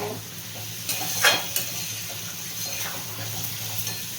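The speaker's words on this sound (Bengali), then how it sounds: "এই সময় ছোলা সেদ্ধর জলটা আমি একটু একটু করে দিয়ে দেব। আর মিশিয়ে নেব।" Boiled chickpea cooking water goes a little at a time into a hot pan of mutton fat and chickpeas, giving a burst of sizzle and steam with a brief stirring scrape, then a softer steady simmer.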